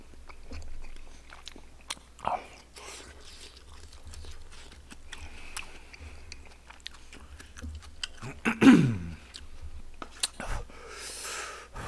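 Fish cake (odeng) being eaten close to the mic at a late-night tteokbokki mukbang: quiet, scattered soft bites and wet chewing at an irregular pace, with a few sharper crunchy bites near the end.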